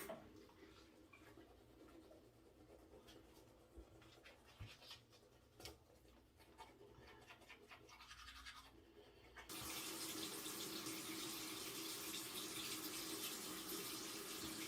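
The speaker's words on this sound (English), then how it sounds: "So I'm just going to go ahead and brush my teeth." Teeth being brushed with toothpaste, close, quiet scrubbing strokes in an irregular rhythm, followed by a tap running steadily into a sink.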